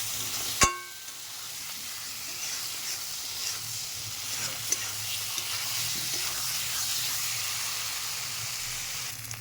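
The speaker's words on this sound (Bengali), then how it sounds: "ভালো করে কষিয়ে নেবো আলুটা দিয়ে" Potatoes sautéed in a pan with oil during home cooking, a steady soft sizzle with a sharp clink of a utensil near the start and occasional small stirring taps, close and continuous with no talking.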